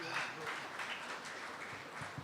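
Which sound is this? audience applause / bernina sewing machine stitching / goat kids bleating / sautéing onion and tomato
audience applause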